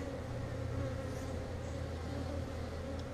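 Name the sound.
honeybees buzzing at an open hive during inspection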